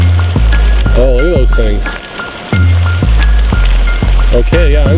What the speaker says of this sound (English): Oh, the hail's getting bigger.